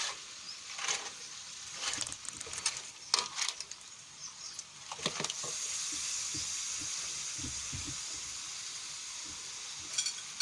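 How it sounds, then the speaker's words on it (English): Rice stirred into a sizzling pan of traditional seafood paella, steady frying hiss with intermittent scraping and clacking stirs of a utensil against the pan, close and fairly loud, no voices. "Now we mix the rice inside. Turn it."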